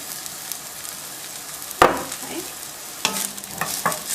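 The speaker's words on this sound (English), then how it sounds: "The minute that the onion and the garlic hits the hot oil, smells so good." Onion and garlic sizzling in hot oil for a tomato and basil sauce, a soft steady crackle with a few louder stirring scrapes and spatters, heard alone without talk.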